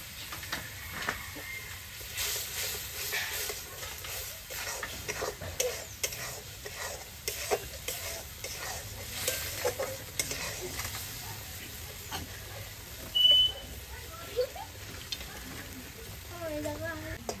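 Masala spice paste frying in oil with a little water in a pan, giving a soft steady sizzle with intermittent stirring scrapes, fairly quiet and close.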